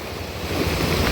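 Powerful river water rushing along the route to Pintong Bukawi, a dense continuous roar with low churning rumble, loud and near, no talking over it.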